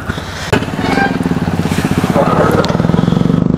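A motorcycle ridden on a tour through Purulia, its engine giving a steady, close droning rumble that swells sharply about half a second in and holds strong throughout.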